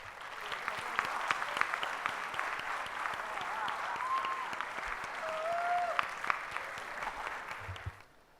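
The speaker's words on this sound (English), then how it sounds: "With a big round of applause" Audience applause welcomes two speakers onto the stage at a seminar session, with steady sustained clapping from a crowd that holds for several seconds and then fades out abruptly.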